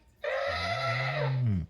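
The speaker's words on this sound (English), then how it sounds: "The elephant sounds like" A short electronic elephant trumpeting call from a Playskool Alphie robot toy, a single buzzy blast that bends downward at the end, fairly quiet and alone.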